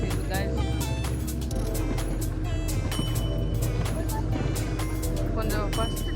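A boat taxi motor runs steadily off Tioman Island, a loud continuous engine drone with water noise, while people talk over it throughout.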